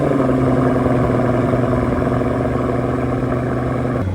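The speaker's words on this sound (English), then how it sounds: "Not a bad little cold start" A Pagani Huayra BC hypercar cold-starting on a chilly morning in Greenwich, its engine holding a steady, loud, low idle rumble throughout.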